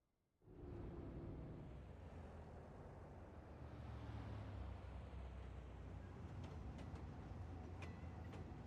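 A train rolling along in the city-building game Cities Skylines 2, a steady low rumble starting abruptly and continuing evenly with faint rail clicks, no talking.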